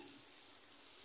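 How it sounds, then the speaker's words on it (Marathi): Onion and chili roasting in a pan for egg fried rice, a steady bright sizzle heard close and continuous with no talk. "आणि त्याच्यामध्ये आता कांदा आणि मिरची घालून घेते। ते सगळं रोस्ट करायचं"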